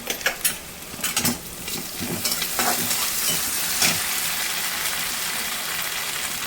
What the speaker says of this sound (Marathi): भाज्या छान परतून झालेल्या आहेत। त्याच्यामध्ये शेजवान सॉस टाकलेला आहे थोडासा